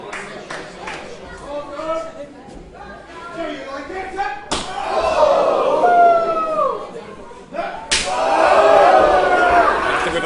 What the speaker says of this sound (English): The impact of those chops.